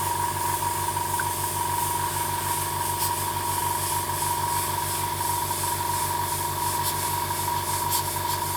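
An Iwata HP CH airbrush sprays at low pressure, set by a Mac valve, for fine lines: a steady, even hiss with a faint mechanical hum beneath, continuous and close throughout, with no voices.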